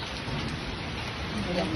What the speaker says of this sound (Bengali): কি ঠান্ডা বৃষ্টি